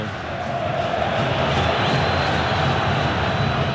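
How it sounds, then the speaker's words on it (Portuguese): A dense football crowd at São Januário stadium roars and shouts continuously, a broad, steady wall of voices that fills the whole stretch without a break. "A torcida grita de novo"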